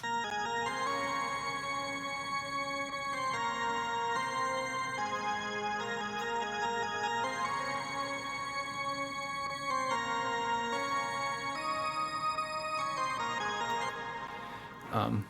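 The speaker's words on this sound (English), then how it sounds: "So I wrote this part on the organ here" Sustained organ lead line from the chorus of a song plays steadily on held, shifting chords in a mix, moderately quiet and without talk.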